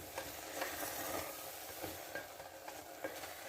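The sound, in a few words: stirring upma in a pan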